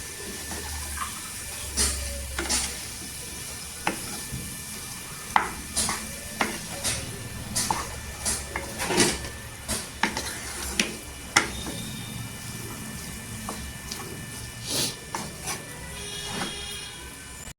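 Potato bhaji fries in oil in a pan while a utensil stirs and scrapes against the metal, giving a low steady sizzle broken by irregular clinks and scrapes.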